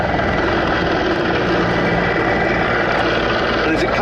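Mi-24 attack helicopter hovering at the Duxford Battle of Britain airshow, a loud, constant engine and rotor drone with no gaps, while a commentator talks over it.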